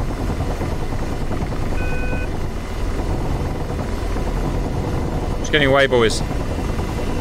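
Helicopter gunship flying in the DCS combat simulator, a loud steady rotor and engine drone filling the scene throughout, with a brief radio voice and a short electronic tone over it.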